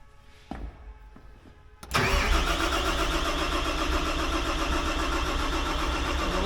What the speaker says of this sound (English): Okay, I'm gonna crank it over again here.